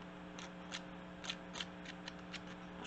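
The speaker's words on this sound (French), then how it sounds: "Le papier est rendu un peu plus craquant maintenant." Mulberry paper stiffened with fixative, crinkled by hand in small, soft, irregular crackles over a quiet background hum.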